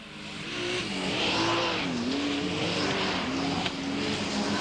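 Modified production race cars roar around the dirt oval at Bunbury Speedway, a continuous engine drone with shifting pitch as cars pass, moderately distant, under a race commentator's voice.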